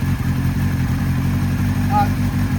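A warmed-up 1973 Kawasaki Z1 motorcycle engine runs at a steady idle, a loud close throbbing rumble with a speaking voice over it.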